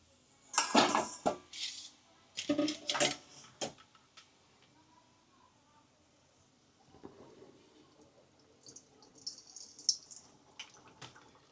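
Kachori being handled in a kitchen while deep-frying over a low gas flame: a few loud close clatters of metal utensils and ladles, followed by quieter clinks and faint sizzling.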